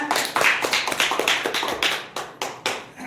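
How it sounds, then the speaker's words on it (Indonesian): A classroom group claps for a student team after a teaching demonstration, a brisk run of close, sharp hand claps with an uneven rhythm, loud and unaccompanied by speech. "berikan aplaus untuk kelompok 3"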